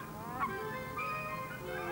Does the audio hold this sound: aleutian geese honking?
yes